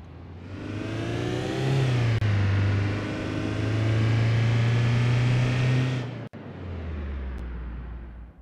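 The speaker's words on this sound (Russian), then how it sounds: "я думаю, что до сотни нам хватит разогнаться" A 2018 Škoda Karoq engine in the City Car Driving game accelerates hard, a steady strong drone rising in pitch with brief breaks near two and six seconds as gears change, loud and alone.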